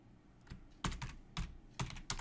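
Keystrokes on a computer keyboard, typed in short bursts of clicks separated by brief pauses, fairly close and moderately loud while entering figures into a paint estimating sheet.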